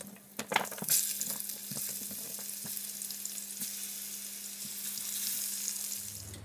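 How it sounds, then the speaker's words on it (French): Potatoes, carrots and plantains sauté in a pan with a steady close sizzle, a few sharp clicks of a utensil against the pan scattered throughout, fairly quiet. "Je les ai fait donc sauter"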